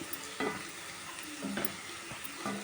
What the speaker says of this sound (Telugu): ఫ్రై అయింది పొట్లకాయ కూర